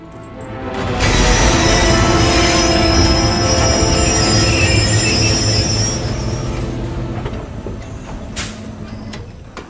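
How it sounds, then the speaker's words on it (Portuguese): Train wheels squeal loudly as a train brakes in the Hitman 3 video game, a sustained metallic screech with rumbling underneath that swells quickly, holds for several seconds, then fades out. "Stop the train."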